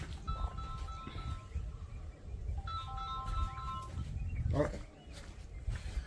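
A mobile phone rings faintly with two short melodic bursts of its ringtone at a hilltop resort in Parunthumpara, set against a soft outdoor background with some voice nearby.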